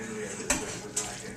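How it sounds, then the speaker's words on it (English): Spoon stirring vegetable soup in a pot, a steady simmering wash with two quick scraping knocks against the pot, close and fairly quiet. "Keep stirring."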